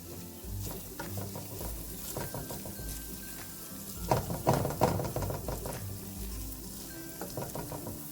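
Corned beef hash cooks in a pan, sizzling steadily up close with repeated scraping and tapping strokes from a utensil, busier in the middle.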